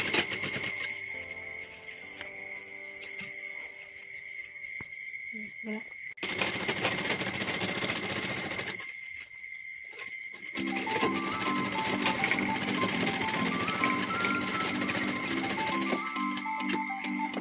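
A sewing machine stitches gathers into a small girl's skirt, running in a steady mechanical whir in two long bursts with a quieter pause between, over low background noise.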